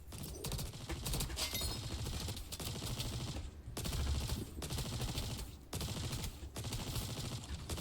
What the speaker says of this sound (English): they started shooting back at me